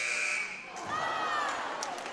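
At the end of a high school boys basketball third-place game, a long electronic buzzer sounds loudly over crowd noise and then fades as the crowd carries on.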